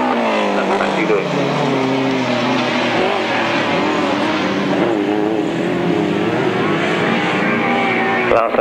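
Grasstrack sidecar outfits race flat out on the last lap at a 1995 meeting in Frittenden, a loud sustained engine roar with shifting pitch as machines pass, a commentator talking over it.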